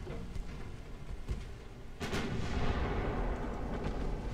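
Naval gunfire in the warship strategy game Ultimate Admiral: Dreadnoughts, with a light cruiser's torpedo striking a transport: muffled distant booms, then one sharper blast followed by a sustained rolling rumble.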